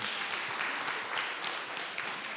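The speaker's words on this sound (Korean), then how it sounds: "청년들 격려하는 마음으로 한번 박수 한번 할까요?" Church congregation applauding to encourage the youth group at a Sunday service, a steady wash of clapping heard alone and fairly faint.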